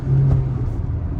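A Kia Sonet HTK engine pulls hard through the gears, a steady loud rumbling drone with a slight dip as the gear changes, close and continuous.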